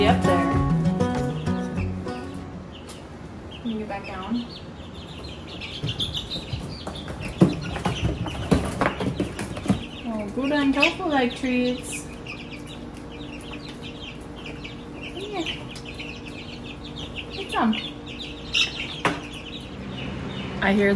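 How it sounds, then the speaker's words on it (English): Chicks cluck and chirp loudly and repeatedly nearby on a homestead, busy and irregular, with occasional human speech mixed in. "I hear the birds chirping really loud,"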